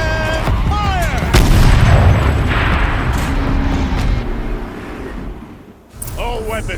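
A heavy turret firing in Horizon Zero Dawn: a deep, booming blast with a rumbling tail, surrounded by someone talking and other game sounds.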